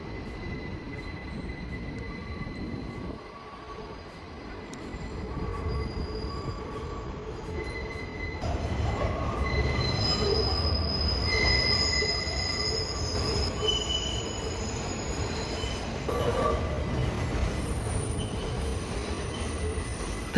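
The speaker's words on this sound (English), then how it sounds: "The constant sharp screeching of wheels is due to the many trains sharing the tracks and the sharp curves and tight turns." Subway train wheels screech on sharp curves of elevated tracks near the Queensboro Bridge in an industrial part of Queens, a sustained high squeal with rail rumble that swells louder midway and persists to the end.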